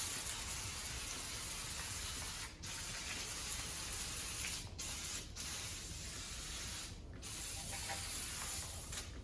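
A power washer blasts a bare 6-litre LS engine block outdoors in November, a loud, steady hissing spray broken by a few brief pauses as the jet is released.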